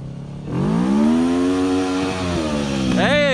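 An engine idles, then is throttled up into a loud, sustained rising rev that holds and dips slightly, followed by another quick throttle blip at the end.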